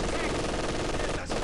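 Rapid machine gun fire in Company of Heroes 2 during a Soviet assault on a German line, a loud continuous chatter of bursts with a brief break near the end, with faint voices in the mix.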